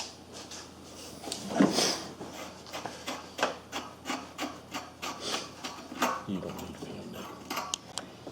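A seized fitting is twisted out of tubing during intake manifold work on a 2004 Ford Crown Victoria, giving a series of close, rhythmic squeaky rasping turns, roughly a dozen regular strokes following a louder initial wrench.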